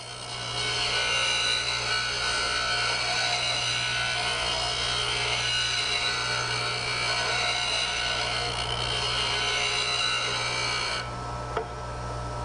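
A chisel held in a jig has its bevel ground on a grinder wheel, a continuous loud abrasive rasp over a steady motor hum that stops abruptly near the end, leaving only the motor whine.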